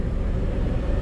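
In third gear, a 2009 Caterpillar 140M AWD VHP Plus motor grader gives off a dense, close diesel rumble that stays steady and unbroken throughout.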